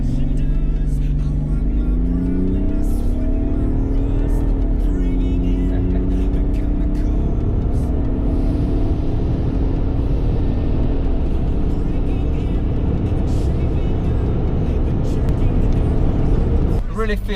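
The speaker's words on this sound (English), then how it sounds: "for being a heavy car, the acceleration is pretty outstanding" A heavy BMW 535d diesel car pulls hard, the engine climbing steadily in pitch under a continuous heavy rumble heard from inside, with a voice talking over it.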